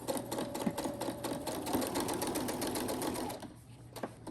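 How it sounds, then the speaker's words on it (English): A sewing machine runs close up, stitching forward and then reversing to lock the seam at the corner of a fabric basket, one continuous steady whir that cuts off after about three and a half seconds. "we're going to stitch forward and reverse like we normally do"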